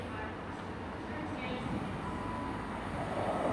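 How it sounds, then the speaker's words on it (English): A delayed passenger train bound for Gloucester rumbles into Bristol Parkway station, a low steady rolling roar with faint squeals, heard alone without talk. "coming in now is what I think's the severely delayed 1352 up to Gloucester from Weymouth"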